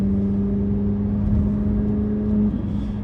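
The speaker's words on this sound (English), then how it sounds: "Now this allows you now to hear that glorious LT6 engine." A Chevrolet LT6 V8 revving in manual mode, a loud, steady exotic engine drone holding close and strong, with a slight shift in pitch near the end.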